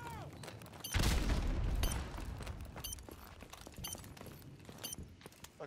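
Desert Eagle pistol fire in a Counter-Strike match, with a loud burst of gunshot and impact noise near the start followed by scattered sharp game clicks and shots, with faint talk mixed in.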